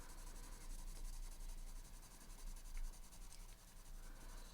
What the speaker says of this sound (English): I'm taking the mulberry right up on top of that color to try to blend it in.